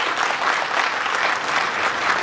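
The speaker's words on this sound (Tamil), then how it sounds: "கருணா சாருக்கு நல்ல மிகப்பெரிய கரகோஷம் கொடுங்க, நல்ல அரங்கமே அதுற மாதிரி கொடுங்க" An audience at a film audio and trailer launch applauds for Karuna, a dense, even wash of many hands clapping, loud and sustained without a break.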